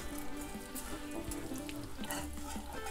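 Bacon and food sizzling quietly in a pan while being stirred, a soft crackling hiss with faint scattered spoon scrapes, fairly low in level and without speech.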